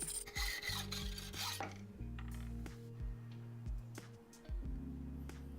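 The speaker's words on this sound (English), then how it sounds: "Now onto the metal cutting blade in the hacksaw, and again does the job as expected, no problems at all." A Parkside hacksaw with a metal-cutting blade, part of a 3-in-1 handsaw set from Lidl, rasps through a metal workpiece in quick back-and-forth strokes. A steady low hum runs underneath.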